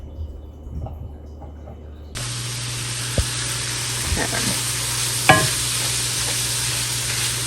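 Meatballs and other meat frying in a pan: after a quiet start, a steady broadband sizzle begins abruptly and continues, with a few sharp clinks and scrapes of stirring on top.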